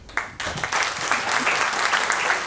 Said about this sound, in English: On va applaudir encore